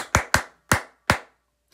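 Four sharp, crisp hand claps in a children's song, close and loud, spaced unevenly with a short pause before the last one.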